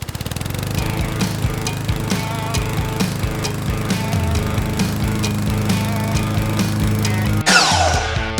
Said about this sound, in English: So we'll flip this piece so our veneer is facing up on the miter box and make this cut nice and slow.